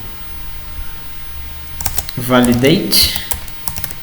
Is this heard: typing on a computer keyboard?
yes